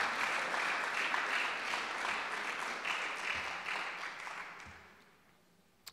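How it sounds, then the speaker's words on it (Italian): Audience applause at a conference on park planning, a dense steady clapping that carries on for several seconds before thinning out and fading near the end. "L'applauso è per Antonio, non per Guido."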